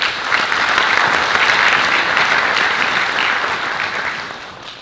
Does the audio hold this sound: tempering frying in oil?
no